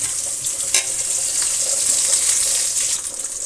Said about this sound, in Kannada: ಒಂದು ಅರ್ಧ ಈರುಳ್ಳಿ ಮತ್ತು ಸ್ವಲ್ಪ ಕರಿಬೇವನ್ನು ಎರಡನ್ನು ಸೇರಿಸ್ತಾ ಇದ್ದೀನಿ ಫ್ರೈ ಆಗಲಿ ಎರಡನ್ನೂ